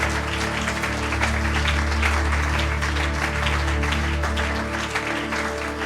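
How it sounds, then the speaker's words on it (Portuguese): A church congregation applauds in a loud, dense, sustained wash of clapping that fills the hall throughout with a steady low hum beneath. "Damos um aplauso para Jesus."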